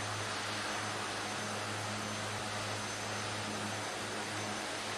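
A Peruvian Otter floatplane's engine drones in flight within a video game, a steady, loud, broadband roar with a low hum beneath it, unbroken and without speech.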